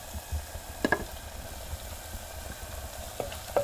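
Onions frying in a pan for a tuvar dal tadka, a steady low sizzle with occasional light stirring clicks, close and fairly quiet, with no talking.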